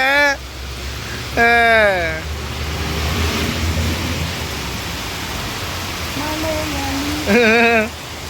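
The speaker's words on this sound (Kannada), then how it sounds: "ಹೆವಿ ಮಳೆ ಜೊತೆ ಹೆವಿ ಗಾಳಿ ಮಳೆನೂ ಬರ್ತೈತೆ" Steady heavy rain with strong wind hisses throughout, with a few bursts of a voice rising over the downpour at the start, middle and end.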